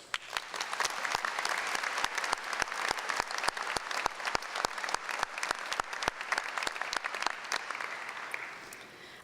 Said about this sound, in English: Please join me in a round of applause for the extraordinary achievements of our graduates.